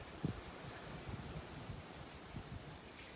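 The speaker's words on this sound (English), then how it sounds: "Getting real windy up here." Steady wind rushes and buffets against the microphone, with low gusty thumps scattered throughout a constant breathy roar; no voices.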